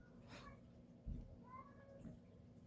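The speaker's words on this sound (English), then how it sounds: "My cat is going. You hear him?" A pet cat named Wilfred meows indoors in a few drawn-out calls, moderately close, against a low steady background hum.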